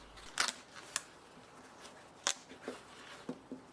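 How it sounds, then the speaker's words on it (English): Rubber soles being torn and peeled off worn Ugg boots, giving a few sharp, scattered ripping and snapping bursts against quiet background, close and fairly faint. "First, let's finish tearing the soles off these boots."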